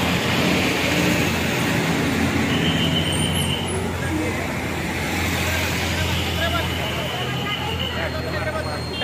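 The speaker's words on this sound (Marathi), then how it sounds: "गाडी आली" A bus pulling into the crowded Koregaon ST bus stand, its engine and road noise rumbling steadily beneath a busy hubbub of voices and chatter throughout.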